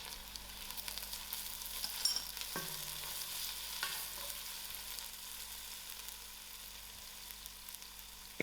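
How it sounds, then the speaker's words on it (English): Ginger and garlic sizzle in an oiled pan with black pepper for a spicy lamb stew, a close, steady frying crackle broken by a couple of stirring scrapes. "I'll give this a few seconds to fry out. Now I'm adding in my ginger garlic."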